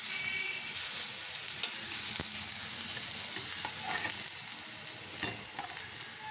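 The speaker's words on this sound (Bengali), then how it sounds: "এরকম ঘুরিয়ে ফিরিয়ে গোল্ডেন করে ভেজে নেব।" Something frying in oil in a pan while being turned until golden, a steady crackling sizzle with soft stirring knocks, close and even throughout, no talking.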